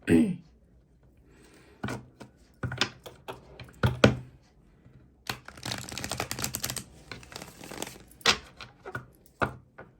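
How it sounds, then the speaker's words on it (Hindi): Tarot cards being drawn and shuffled by hand, a series of short, sharp papery slaps and flicks with brief rustling bursts between pauses, close and fairly quiet, with no talking. "कुछ कार्ड्स मैं यहाँ से भी निकालना चाहूँगी गाइस"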